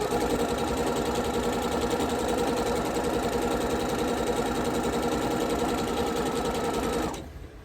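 A sewing machine runs steadily for about seven seconds, stitching the last pair of strips before the odd man out, its fast even whirr close and loud until it stops abruptly near the end.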